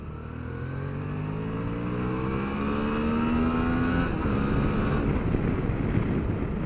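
A 2021 Suzuki DL650XT V-Strom motorcycle engine revs up steadily through second gear toward 10,000 rpm, its pitch climbing smoothly, with wind rushing past throughout.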